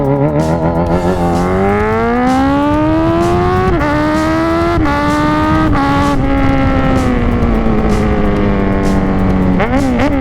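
A Suzuki Hayabusa motorcycle engine revs hard through the gears on an expressway, a loud, close, rising howl that climbs, drops at each shift, and holds a sustained roar throughout.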